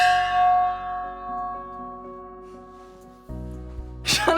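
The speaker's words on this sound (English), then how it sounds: "I'm gonna strike the affirmation gong now." A single strike on an affirmation gong rings out with a bright metallic hit and a long shimmering decay, followed by a lower hum and a brief noisy burst at the end.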